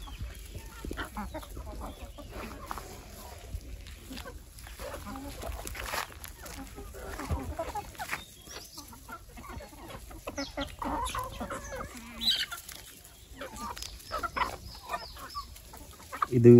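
Free-range country chickens grazing on green grass cluck and call on and off at close to middle distance, with faint rustling underneath.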